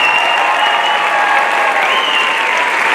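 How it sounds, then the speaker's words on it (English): Loud, sustained applause from a gymnasium audience at a 2018 graduation honoring students, a dense even roar of clapping with a faint crowd murmur beneath it. "One more round of applause for these exceptional students."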